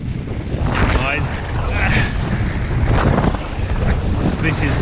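Strong wind blowing across a bay during kayak fishing, loud low microphone buffeting with water sloshing around the kayak, continuous gusts throughout.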